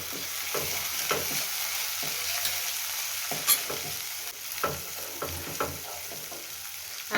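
Browned onion paste and ginger-garlic paste sizzle steadily in a pan, with a run of scraping stir strokes breaking through the frying hiss at close range. No voices are heard.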